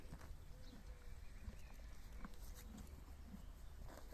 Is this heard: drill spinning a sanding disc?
no